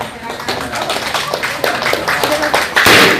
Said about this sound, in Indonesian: Boleh kita kasih tepuk tangan Bapak Ibu sekalian.